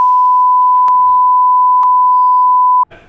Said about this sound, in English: I might have to bleep that.